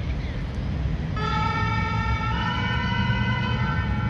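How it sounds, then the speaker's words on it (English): A French Sapeurs-Pompiers fire brigade ambulance siren sounds as it passes on a street. A steady, multi-tone wail starts about a second in and holds over a constant roar of traffic. "The rescuer, that's an ambulance"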